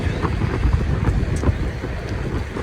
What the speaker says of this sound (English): Yeah, this wind.